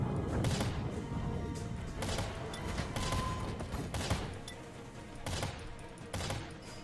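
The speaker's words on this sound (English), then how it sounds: "The benefit of the bomber is that you actually have the ability to launch several of these missiles here." Several bomber missiles launched in a volley in the space combat game Infinity: Battlescape, a dense run of loud repeated blasts and thumps with sharp bursts around the first, third, fourth and sixth seconds.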